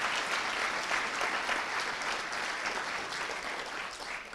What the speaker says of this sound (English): That's the first applause.